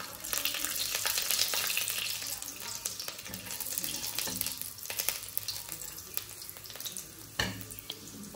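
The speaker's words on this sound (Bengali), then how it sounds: "3টে শুকনো লঙ্কা আর গোটা মশলার সাথে সাথে একটা কুচি রসুন দিয়ে দিচ্ছি" Dried red chillies, whole spices and chopped garlic fry in olive oil with a continuous crackling sizzle, broken by scattered pops and clatters and a sharp knock near the end.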